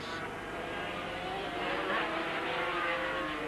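Superbike motorcycles race at Donington Park in 1984, with a continuous roar of engines at steady distance under a faint commentary voice.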